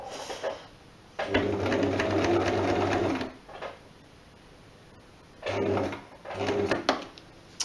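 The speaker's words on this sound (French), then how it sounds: "je fais un point droit simple, le A, avec la Silver Crest" A Silver Crest sewing machine running a simple straight stitch, close and loud, in two bursts of steady whirring with a pause between, the second burst broken by a short stop.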